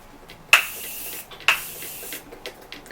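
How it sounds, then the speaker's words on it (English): Face setting spray misted over freshly powdered makeup: two short, close hissing bursts about a second apart, with near silence around them. "Then what I want to do is spray my face a little bit"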